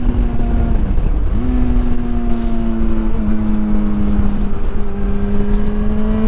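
A 2005 Yamaha FZ6 600cc motorcycle riding, its engine note loud and close, rising in pitch with each gear before dropping at the shifts and pulling again.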